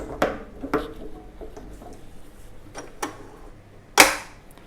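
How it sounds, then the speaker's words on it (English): A whisk attachment clicks onto a stand mixer in a kitchen. It gives a few sharp, close plastic and metal snaps, spaced irregularly, with a louder final clack near the end and no talk. "now I'm going to attach the whisk attachment."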